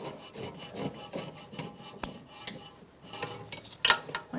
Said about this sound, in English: Put the nut on the back. I'm just going to hand tighten it